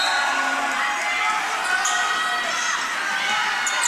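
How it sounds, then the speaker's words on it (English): Crowd noise from a small-college men's basketball tournament game, Penn State Altoona against Hood, a steady mid-distance murmur of fans reacting with scattered shouts and no clear cheer peak. "That brings the crowd into it"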